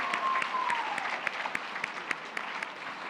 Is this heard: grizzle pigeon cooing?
no